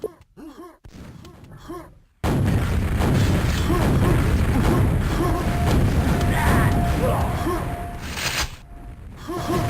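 A loud, sustained blast of grenade explosions in QuakeWorld fills most of the span after a quieter opening, with a dense rumbling roar and crackle, then cuts off abruptly.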